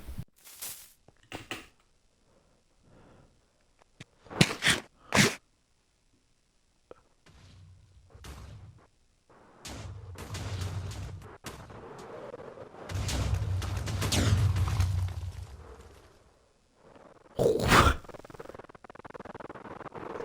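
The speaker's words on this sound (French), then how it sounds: "Faire péter l'énorme TNT" Giant TNT blocks detonating in Minecraft on a hardcore giant-blocks world, a series of sharp booms at irregular intervals followed by longer rumbling blasts, loud and close with silent gaps between.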